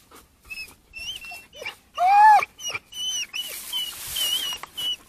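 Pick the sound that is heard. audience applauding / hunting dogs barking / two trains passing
hunting dogs barking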